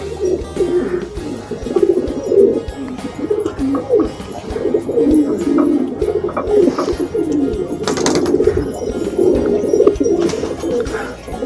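A pigeon being held and handled during ear treatment coos repeatedly up close in soft, throaty rolling phrases, mixed with faint rustling and handling noises.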